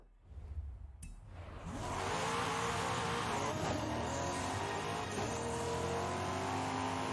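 A car engine in Forza Horizon 5 climbs into a loud, steady roar after a brief quieter start, the sound holding high and continuous as the vehicle accelerates during a cross country race.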